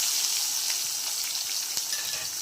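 Thinly sliced onions fry in hot oil with whole spices while making a Rayalaseema-style country chicken curry, giving a steady, close, loud sizzle with small crackling pops throughout and no talking.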